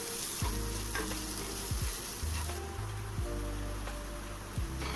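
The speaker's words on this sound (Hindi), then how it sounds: "तो चलिए इस सबको थोड़ी देर भून लेते हैं अच्छे से।" Ground spices, including black pepper powder and garam masala, sizzle steadily in a hot pan. A spoon scrapes and stirs through them at regular intervals, close and clear, with no talking.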